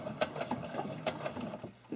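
A sewing machine stitches a cloth face mask in short, quiet bursts of mechanical ticking and whirring, with small clicks at an uneven rhythm.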